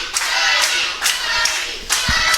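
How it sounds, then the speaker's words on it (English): A wrestling crowd at a women's match chants and claps in support of Tiny Tanaily, rhythmic bursts of applause and voices rising roughly every half second in a steady, moderately loud cheer. "Crowd chanting for Tiny here."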